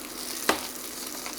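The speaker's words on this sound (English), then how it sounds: "Nice little sizzle." Sliced potatoes sizzle in oil in a frying pan, a steady close crackling hiss with one sharp clatter of stirring partway through.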